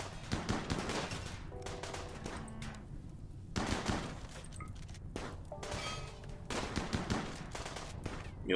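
Gunfire in the colony-building game Rimworld during a tribal raid: rapid bursts of automatic and single shots in clustered volleys separated by short lulls, with occasional impact thuds, steady and mid-distance.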